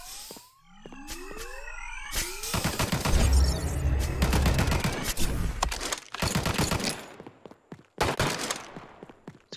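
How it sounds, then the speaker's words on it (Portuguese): Gunfire in the video game Omega Legends: rapid bursts of close, loud shots with ricochet-like whines early on, then dense volleys and scattered single cracks toward the end. "Esse cara tá me atirando."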